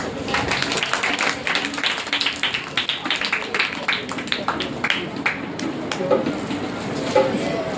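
A small audience claps at a Sunday school program in a prayer house, a brisk run of uneven hand claps that goes on for several seconds, close and fairly loud.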